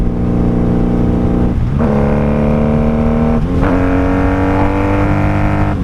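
Motorcycle with Jardine pipes revving through clutchless shifts, a loud close engine drone whose pitch drops and then climbs again at each gear change, two distinct shifts in a row.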